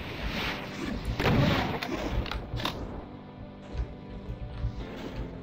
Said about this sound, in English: Fire some rockets down there.